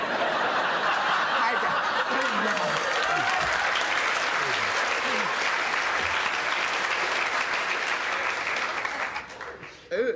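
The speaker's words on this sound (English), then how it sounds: "the applause absolutely floored Kenneth Williams." Sustained, dense audience applause fills the room, loud and steady throughout, with scattered laughter and chuckles mixed in before fading near the end.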